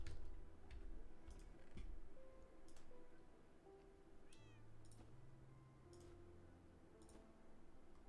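Cats meowing in the Minecraft video game: a few faint, soft meows scattered over a quiet background of steady game ambience and light clicking.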